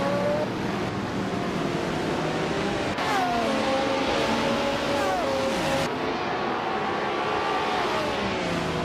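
A pack of Group 6 race cars, a 1971 Ferrari 312BB among them, launches from the start at Croft in a racing game. Several engines whine and rev together, loud and sustained, with rising and falling pitches as cars shift gears.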